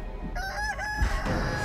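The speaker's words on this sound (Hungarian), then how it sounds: "Olyan béna animáció ez a giga csirke megijesztés, de esküszöm a frászt hozz rám, ahogy üldöz." Giant chicken in a video game letting out a drawn-out crowing call with tonal, honking edges, loud and close, followed by a brief rough cluck-like burst.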